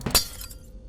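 A drone smashes glass in the Garten of Banban video game: a short, bright crash with tinkling shards around the first fifth of a second, quickly decaying into quiet.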